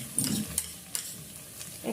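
Ginger and garlic paste frying in a pan with a soft sizzle, punctuated by a few sharp utensil scrapes and clicks, close by, with no talking.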